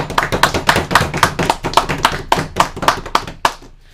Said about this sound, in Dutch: Maar we echt applaudisseren al